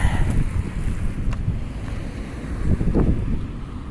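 Gusty wind buffets the microphone outdoors on a city street, a steady low rumble that swells into stronger gusts near the end, with no voices.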